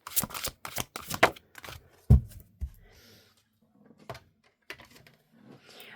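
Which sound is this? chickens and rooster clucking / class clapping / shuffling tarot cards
shuffling tarot cards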